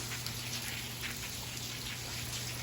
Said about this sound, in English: it is a rainy Wednesday